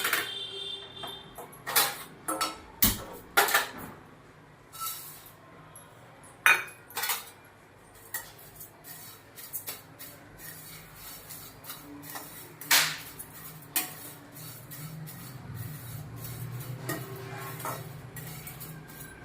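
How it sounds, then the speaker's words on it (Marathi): Flattened rice (poha) dry-roasting in a pan for Konkan-style mirgund, with scattered clinks and scrapes of a spoon against the pan, busiest early on, then quieter stirring and a low rumble near the end. "आता आपण पहिल्यांदा पोहे भाजून घेऊया"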